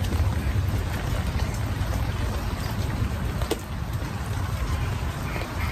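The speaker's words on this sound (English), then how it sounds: "I'm actually grateful for all this rain." Steady outdoor rain falling in a garden beside vegetables, a loud broadband hiss that stays continuous and close for the whole stretch with no talk over it.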